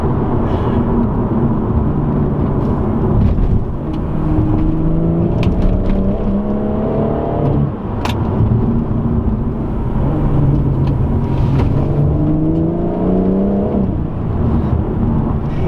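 A BMW M140i's engine roars loudly from inside the car, its pitch climbing repeatedly as it accelerates through the gears over constant road rumble on greasy roads.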